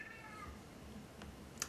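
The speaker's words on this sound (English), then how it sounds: "My cat is meowing." Cat meowing indoors, a short faint mew near the start of a quiet moment with low background hum.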